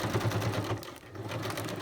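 A sewing machine stitches through plastic in a short, steady mechanical whirr, close and moderately quiet, with no voices.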